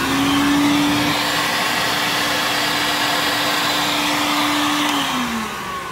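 A PEV2 portable electric vacuum motor runs loud and steady on its own, with a constant whine throughout that drops slightly in pitch near the end.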